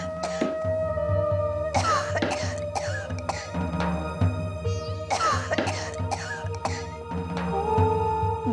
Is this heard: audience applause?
no